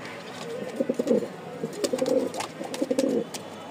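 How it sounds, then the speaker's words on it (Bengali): Domestic loft pigeons, including a Danish pair, coo in low, throaty rolling bursts close by, several calls overlapping in uneven runs with faint chirps and light clicks in the background. "আজকে অনেক কবুতর আছে"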